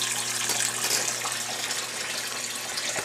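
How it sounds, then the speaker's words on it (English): Surplus water from an aquaponics pump pours back into a fish tank, a steady splashing gush with a low hum underneath, close and constant throughout with no voices. "the excess water gets just dumped back into the fish tank, providing further aeration."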